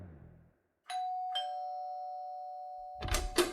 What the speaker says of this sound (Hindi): और बस बजा दी घंटी।